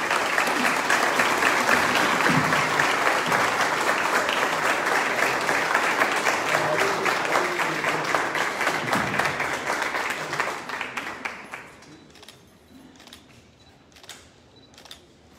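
Audience applause fills a municipal tribute ceremony for don José Centeno Reyes on his 100th birthday, a dense, steady, loud ovation that holds for about eleven seconds before fading to a few scattered claps.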